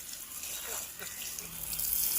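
Water runs briefly from a tap while a pet is being bathed, a soft continuous splashing gush that grows slightly louder toward the end.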